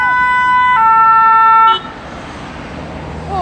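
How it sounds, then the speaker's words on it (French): A fire engine's siren horn sounds loud and close, blaring a steady two-tone wail that switches pitch once, then cuts off abruptly, leaving quieter street ambience and a faint rising siren note at the end. "on a eu un klaxon des pompiers"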